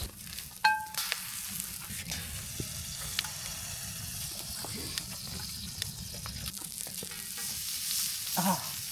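Bacon frying in a pan at a rainy campsite, a steady close sizzle and crackle running throughout with small pops and scraping, alone without talk.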